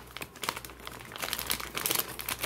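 Taped packaging on the box of an HSP 1:10 4WD RC drift car being pulled open, with close crinkling, rustling and tape crackles that grow busier toward the end, no voices.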